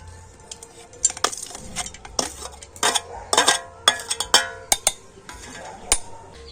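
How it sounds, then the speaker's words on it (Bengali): Grated coconut mixture being spooned into a mixer jar in a home kitchen, a run of sharp metallic clinks and scrapes of a spoon against the jar, close and irregular, with no talk. "আর এগুলোকে এখন আমি মিক্সি জারের মধ্যে নিয়ে নেব"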